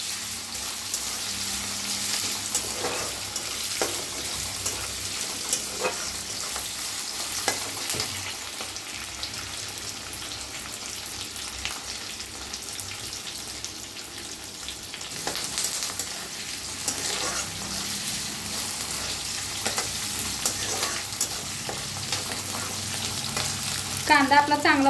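Onion fries in a pan for potato and cabbage sabzi, giving a steady, close sizzle with occasional stirring scrapes throughout and no talking.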